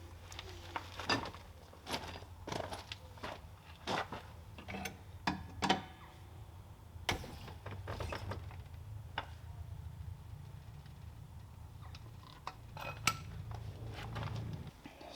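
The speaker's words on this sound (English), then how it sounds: "wheels on, slow it down and get it torqued up." A ratchet clicks in scattered sharp bursts as wheel nuts are run down on a Mini in a workshop, metallic ticks and clanks spread across a quiet background hum.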